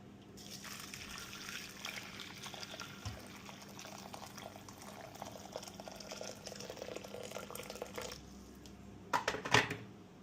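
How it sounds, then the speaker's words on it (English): Hot water pours steadily onto red lentils and two stock cubes for a red lentil soup, a continuous splashing gush that ends with a few brief clinks near the end. "And then I'm going to add some hot water."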